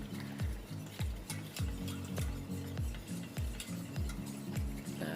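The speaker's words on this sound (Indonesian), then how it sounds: "kalian aduk-aduk jadi satu sampai dia tercampur rata ya" A chocolate agar-agar pudding mixture is stirred round a pot in steady, rhythmic strokes, each sweep a soft repeated scrape about twice a second, with no talking.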